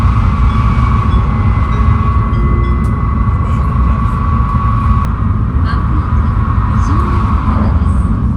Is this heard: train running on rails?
yes